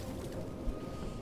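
Pigeons cooing in a crowded room in the video game Detroit: Become Human, soft, low murmuring coos layered over a quiet ambient background.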